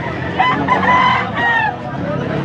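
A full stag rooster, 18 months old, crows at a busy fowl market in Angeles City, Pampanga, one loud near call over a background of crowd babble and bargaining voices.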